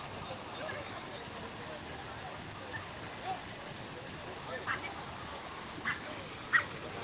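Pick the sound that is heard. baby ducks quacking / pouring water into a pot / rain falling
baby ducks quacking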